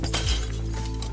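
A glass table shatters in Human Fall Flat: a single loud, close smash with a bright burst of breaking glass, then a brief ringing tail.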